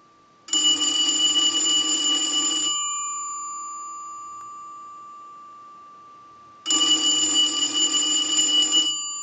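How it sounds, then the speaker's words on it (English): Automatic Electric three-slot payphone, under repair and conversion, rung by a test analyzer: its mechanical bell clangs loud and close for about two seconds, falls silent for four, then rings again, with no voices. "we'll use the analyzer and we'll ring the telephone"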